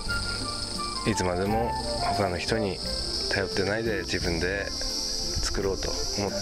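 Insects, likely cicadas, drone steadily and loudly through a summer farm field with tomato, cucumber and apple crops, a continuous shrill buzz that persists under someone speaking throughout.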